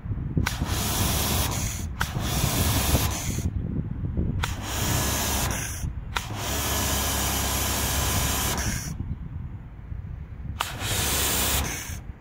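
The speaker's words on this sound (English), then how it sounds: "This is the sound you can hear when working with Karcher." Karcher K25 Silent pressure washer spraying through its variable nozzle: a loud, broad hissing spray in several bursts of one to three seconds, each ending with a sudden cut to quiet.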